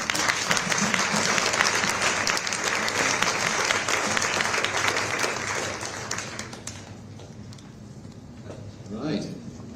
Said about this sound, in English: round of applause for our panel